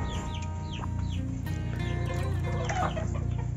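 Backyard laying hens cluck and call near their water container, a close, busy mix of short clucks and rising squawks from several birds over a low steady background hum.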